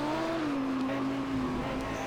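An Audi R8 LMS Ultra race car at the Nurburgring GP in Project Cars, its engine howling steadily as it shifts down under deceleration, a loud continuous tone that dips and wavers in pitch without pause.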